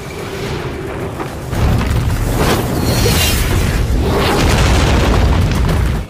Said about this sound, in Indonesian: Ledakan demi ledakan terdengar di sana